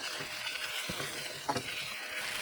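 Mushrooms and vegetables stir-fried for chop suey in a hot pan, steady close sizzling broken by a few scraping stirs, no talking.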